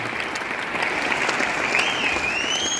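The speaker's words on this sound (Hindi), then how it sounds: "सबसे पहले तो जोरदार ताली संतोष जी के लिए" Loud, sustained applause from a seminar audience filling the hall throughout, with a faint whistle rising near the end.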